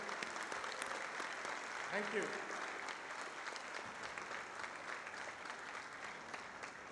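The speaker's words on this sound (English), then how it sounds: "huge round of applause for the guests in the house" Audience applause for guests at the inauguration ceremony of a design week at a university in Ahmedabad, a steady broad wash of clapping from a crowd lasting throughout, with a voice speaking briefly over it.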